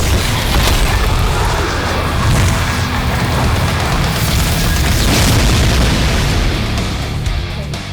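An Explosion finisher in the video game TSB hits with a loud, sustained booming blast, dense rumbling roar that fills the whole stretch without pause, close and heavy.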